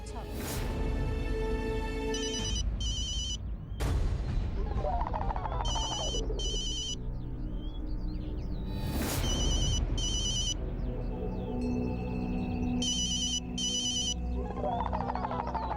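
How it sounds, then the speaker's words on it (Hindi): A phone ringtone plays in repeated bursts of a bright electronic pattern, sounding over ongoing talk and background music. "प्रिया फोन कर रही है, उठा लीजिए ना"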